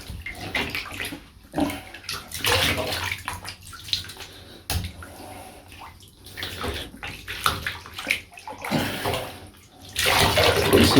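Water sloshes and splashes in a small bath as a doll's long hair is washed, a steady close-up of swishing and trickling with no talk.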